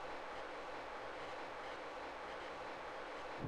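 Rocket engines lift off in Kerbal Space Program, a broad, steady roar that rumbles on without a break for several seconds. No one speaks over it.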